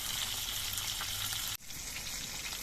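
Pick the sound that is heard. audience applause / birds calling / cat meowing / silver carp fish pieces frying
silver carp fish pieces frying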